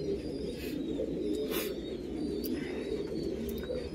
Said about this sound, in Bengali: সেগুলো খুব পিলাঙ্কা চোখের পায়রা, ওগুলো খুব ভালো ওড়ে